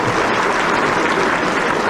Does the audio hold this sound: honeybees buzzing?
no